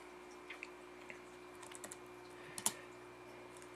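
Soft keystrokes on a computer keyboard during iPhone SDK coding work, a faint sparse run of light clicks with one sharper tap near the end, over a quiet steady room hum.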